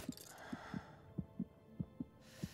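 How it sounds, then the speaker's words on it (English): Low-health heartbeat in the survival game Smalland: soft paired thumps in a steady rhythm, about eight beats, over quiet breathing-like ambience with nothing else around. "You just hear your heartbeat and your character breathing."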